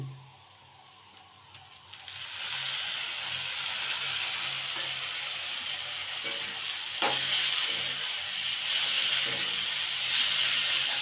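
Hand-pounded garlic and ginger go into frying onions, setting off a steady, loud sizzle and hiss with occasional stirring scrapes that runs unbroken after a quieter opening.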